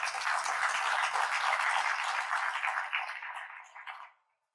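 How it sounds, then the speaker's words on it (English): Broad applause from a crowd at a regional fire station grand opening ceremony, a sustained wash of clapping that carries evenly, then thins and dies away near the end. "I want you to give you also a warm round of applause"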